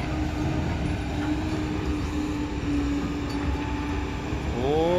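A machine digging soil gives off a steady, loud, broadband mechanical rumble and roar that holds evenly throughout, with a faint rising whine near the end.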